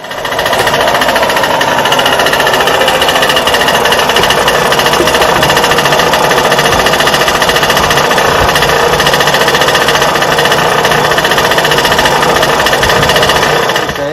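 A Solex moped engine runs steadily on a test bench, a continuous loud, close buzzing rattle that holds even throughout with no talking.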